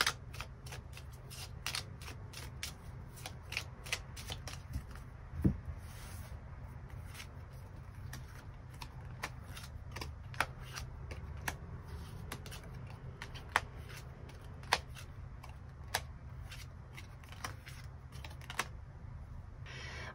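Playing cards being shuffled before extra cards are drawn for a tarot-style weekly reading, heard as faint, sparse clicks and soft riffling flicks scattered over a quiet, steady background hum, with no voice.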